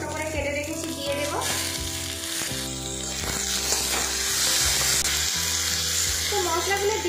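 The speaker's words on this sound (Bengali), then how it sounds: "তো মশলাগুলো দিয়ে ভেজে নিয়েছি" Garlic, chillies, ginger and tomato frying in oil for egg curry, a busy sizzle with stirring clatter and a whirring tone over it, rising louder toward the end.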